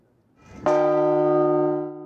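A single large bell of Notre Dame cathedral strikes and rings on, its deep, sustained tone hanging steadily before slowly starting to fade.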